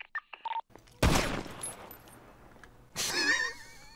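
Video-game gunfire at a gun range target: a few quick soft shots, then two loud bursts of rapid fire about two seconds apart, each trailing off, with faint game sounds between.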